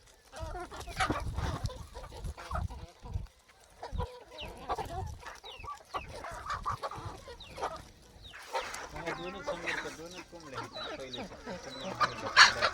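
Colourful desi country hens on a farm cluck and cackle close by, with irregular bursts and a faint distant crow, while people talk over them at times.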